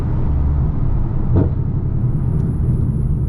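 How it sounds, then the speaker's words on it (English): A Chevrolet Camaro ZL1 engine pulling on a night highway, a loud, heavy continuous rumble heard from inside the car, steady and deep throughout with road noise blended in. "I'm finna go ahead and get this gas, give y'all some nice little pulls on the highway"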